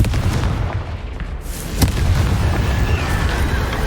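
Confringo fire spell blasting in the Hogwarts Legacy video game, a loud rumbling burst of explosive noise with one sharp crack partway through, then a sustained roar.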